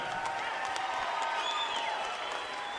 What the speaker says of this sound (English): let's have a big round of applause for both of the fighters in this ring